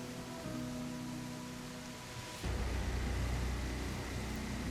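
Rain falling in the dinosaur survival game The Isle, a steady hiss of drops on surfaces at low level that grows denser and heavier partway through, with no voices.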